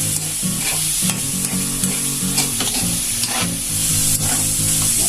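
Pakbet vegetables are stirred together in a hot cooking pan, producing a loud, close sizzle with repeated scraping and clattering from the spoon in a steady rhythm.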